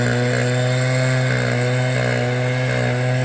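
A Stihl-style 9010 backpack leaf blower roars steadily at full throttle nearby, a loud continuous engine whine with strong harmonics and no letup, no talking over it.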